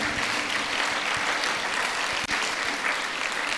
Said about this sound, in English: give a big round of applause to sir